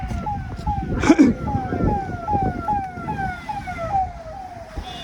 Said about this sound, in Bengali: অ্যাম্বুলেন্স ওটা নাকি?